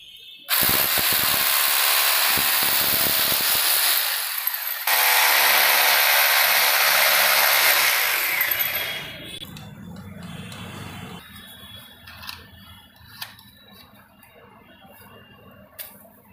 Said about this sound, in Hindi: ये DVR के लिए ड्रिल कर रहे हैं